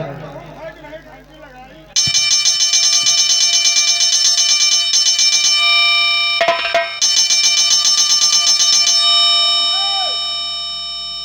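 A loud electronic doorbell rings continuously in a sustained, repeating chime pattern, with a brief break midway, after some talk at the start.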